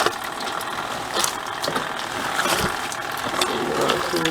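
Giantex Costway twin tub washing machine spinning out a load of clothes, a steady mechanical whir and rumble with intermittent rattling and clicks, continuous and close throughout.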